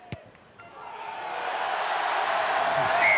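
Crowd at an Ireland versus France under-20s rugby match swelling into loud cheering, starting quiet after a sharp knock and building steadily into a full roar.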